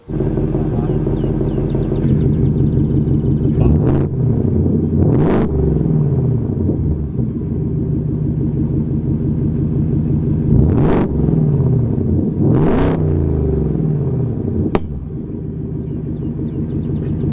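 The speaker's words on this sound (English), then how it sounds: "it comes with the V8 sound, which a lot of people are really asking for" A supercharged V8 in a 2023 Ford F-150 Raptor R pickup rumbles steadily with several sharp revs rising and falling, loud and close throughout.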